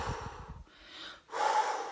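A woman exercising breathes heavily and out of breath: a few quick snorting puffs, then long, close, rasping inhales and exhales with no talk.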